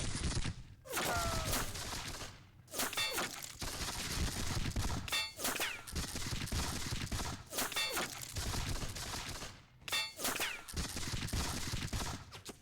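Volleys of musket fire crackle in a Seven Years War game of the Battle of Zorndorf. Dense rolling fusillades repeat in bursts with brief lulls between them, loud and chaotic throughout.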